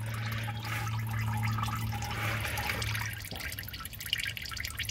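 Engine oil trickling out of a Fumoto drain valve under a Jeep Grand Cherokee, a steady close liquid drip and splash over a low constant hum, with no talking.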